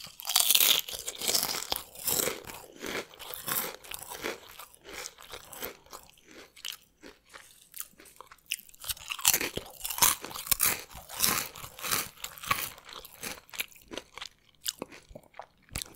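Potato chips, one barbecue flavour and one with a mild spicy kick, crunched and chewed close up in rapid, crisp bites that continue steadily throughout, with no talking.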